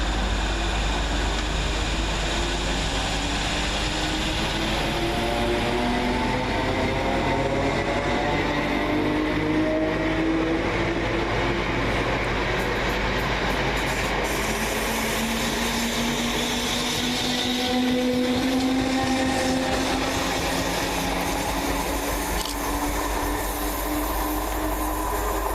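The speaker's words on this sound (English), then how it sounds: "Next out for Greater Anglia is 317508 and 317510, working the 1456 service from London Liverpool Street to Hertford" Two Greater Anglia Class 317 electric multiple units pull out of a station together, a steady broadband roar and rising traction whine holding loud and close throughout, with no voices.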